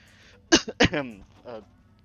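A short, sharp cough burst close to the microphone, followed quickly by a second one and a brief voiced sound afterward.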